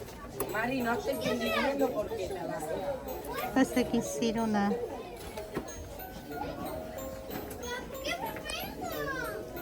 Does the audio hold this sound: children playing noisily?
yes